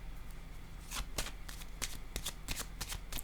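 Tarot cards are shuffled up close in a quick series of crisp riffling flutters, each burst sharp and papery, with no talk over them.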